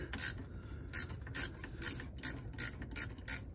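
Ratcheting on a 19 mm radiator drain petcock on a Nissan Titan: a run of eight or nine quick, evenly spaced metallic clicks close by, with no talk.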